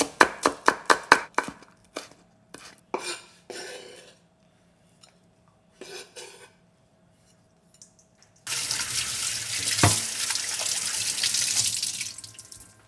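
A flat traditional Korean knife chops green onion on a board in a quick run of sharp, close knocks that slow to scattered cuts, followed by a steady rush of water from a tap filling or washing in a sink.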